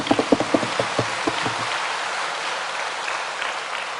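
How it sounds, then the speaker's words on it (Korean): A church congregation at a Wednesday service claps for the choir, with a few sharp separate claps at first that merge into a steady, even patter of applause. "우리 오랜만에 한번 감사의 박수 드리겠습니다"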